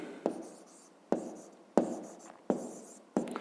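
Pen strokes writing out a maths answer in a notebook, five sharp scratchy bursts at a steady pace, each fading quickly, close and fairly quiet with no voices.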